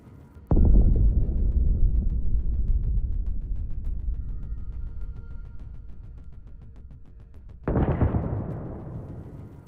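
Ammunition stored in a burning house explodes, two heavy booms several seconds apart, each a sudden blast followed by a long rumbling decay, heard from a distance.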